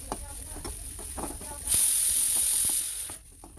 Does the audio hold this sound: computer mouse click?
no